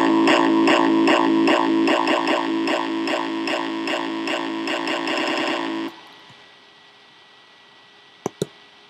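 A hardstyle distorted bass kick built in GarageBand pounds in a steady, loud repeating pattern for about six seconds, then cuts off abruptly, followed by near silence and two brief clicks.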